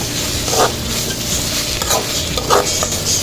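Chili masala for a Maasi dry fish curry sizzles loudly in a pan as it is stirred and sautéed, with a dense continuous frying hiss broken by a few sharp spatula scrapes.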